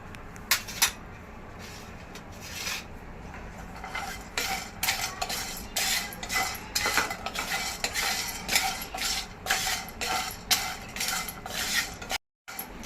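Whole spices dry-roasting in a pan as a traditional Malvani masala is made at home, a utensil scraping and clinking against the metal in steady, close stirring strokes with a faint sizzle beneath.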